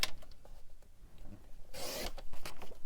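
Card stock being cut, with one short, quiet scraping swipe of a blade midway through soft handling and rustling noises.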